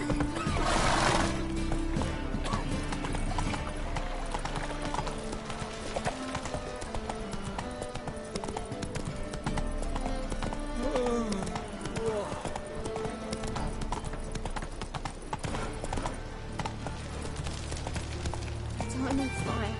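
Roach, the horse in The Witcher 3, gallops with quick, rhythmic hoofbeats and an occasional whinny, running continuously under spoken dialogue and game sounds.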